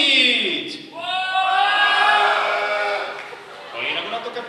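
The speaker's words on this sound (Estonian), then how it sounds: "Ehk siis teeme ühe suure kisakoori nüüd poisid!" A group of boys shouting together in a loud sustained collective yell at a youth event, rising in a long crowd roar before tapering off with a brief renewed burst.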